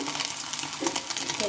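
Egg pieces frying in hot oil give off a steady, close crackling sizzle with small bursts of spattering, while a voice talks over it.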